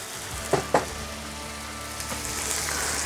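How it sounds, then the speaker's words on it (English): Burger bun laid on a greasy griddle to toast while making smashed moose burgers, giving a steady hissing sizzle with a couple of sharp taps near the start. "Get a bun on here, start toasting up that bun."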